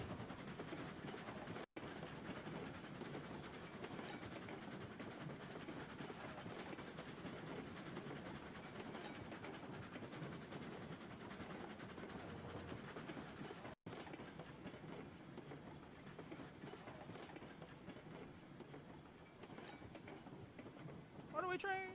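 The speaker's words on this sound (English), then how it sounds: "Runaway train!" In RAILROADS Online, a runaway train rolls along the rails with a continuous rumbling clatter and a steady rhythmic clack of the wheels, while someone talks over it.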